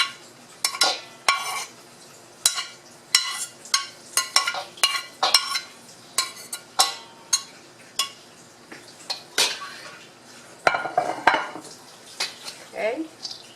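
Chopped bottle gourd and squash drop into a pan, followed by a busy run of clattering, scraping utensil strikes and clinks against the cookware, with light sizzling between the sharp hits.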